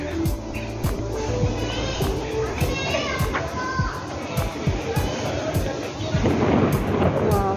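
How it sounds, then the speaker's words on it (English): Steady rain hisses on a surface at an outdoor park shelter area while children's voices chatter and shout nearby, with occasional low rumbles underneath. "it's raining at the moment"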